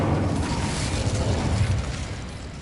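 Fiery burst from the Incendio spell cast in Hogwarts Legacy on PS5, a loud, sustained roaring whoosh of flame with deep rumbling body that holds steady throughout and eases off slightly near the end, with no talk.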